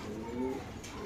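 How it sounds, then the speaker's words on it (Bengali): Pigeons at a pigeon farm give a soft, low coo, short and near, with faint voices in the background. "বাহ সুন্দর কবুতর ভাই না?"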